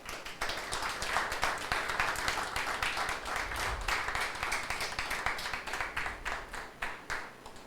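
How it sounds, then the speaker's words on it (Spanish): An audience gives a girl a round of applause: many hands clap in a quick, even patter that holds steady for several seconds at moderate volume. "quiero que le den un aplauso a esta niña"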